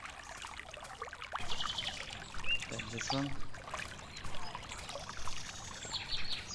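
Gentle flowing river water in a medieval RPG under development, a soft steady trickle and pour with faint bird chirps, heard beneath a quiet spoken voice.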